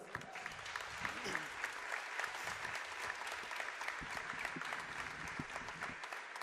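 An audience at a women's basketball game applauds steadily, a dense patter of many hands clapping at moderate volume, sustained throughout.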